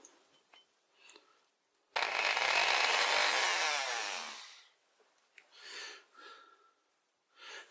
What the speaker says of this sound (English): So I'm going to well, try and remove the burr with my Dremel.